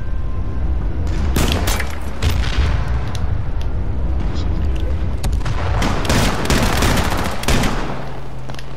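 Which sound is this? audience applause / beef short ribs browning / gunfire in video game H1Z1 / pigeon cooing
gunfire in video game H1Z1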